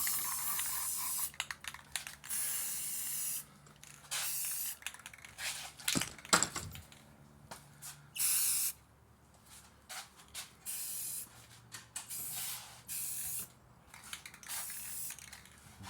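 Aerosol spray paint hisses in short, close bursts as another coat goes onto a motorcycle part, with brief pauses and light handling clicks between sprays.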